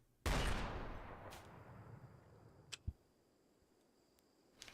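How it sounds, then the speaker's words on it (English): A single loud blast from an anti-materiel rifle in the video game RimWorld, with a long decaying rumble and hiss, followed by a few faint clicks and a small thump. "I love the sound of anti-material rifles in the morning"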